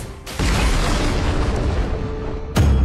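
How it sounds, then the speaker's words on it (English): A tower is destroyed in the mobile game Arena of Valor (ROV): a dense, booming explosion roars steadily, with a second loud burst hitting near the end, and no talking. "Your team has destroyed a tower."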